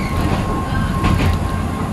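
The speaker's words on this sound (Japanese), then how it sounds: "海外から譲渡された路面電車が日本国内で駅を通過し爆走運転するというのはですね" A German-built RETRAM tram of Fukui Railway in Japan speeds through a station with a loud, close, steady rumble of wheels on rail and a faint thin whine above it, no talk.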